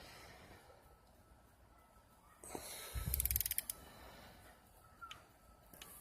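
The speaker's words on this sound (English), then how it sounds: "you always want to wait for the clicking noise when you're doing this." A torque wrench clicking on engine connecting-rod bolts during a Honda H21A4 engine build, heard as a quick run of small metallic ratchet clicks, close but faint amid a quiet workshop.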